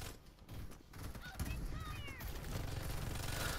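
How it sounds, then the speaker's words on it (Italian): Rapid gunfire from a battle royale video game, several quick bursts over a steady mix of game sound, with a voice talking over them. "Guarda come sparo."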